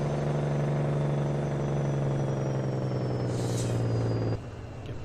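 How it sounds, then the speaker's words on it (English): Truck engine brake in American Truck Simulator, a loud steady low droning rumble with strong tonal harmonics that holds for about four seconds, then cuts off abruptly to quieter engine noise. "Sound what our engine brake sounds like."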